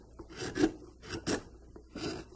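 A sharp carving tool slices through wood while an American eagle is carved, making three distinct close rasping cuts about half a second apart, each a brief swell of scraping texture with no talking.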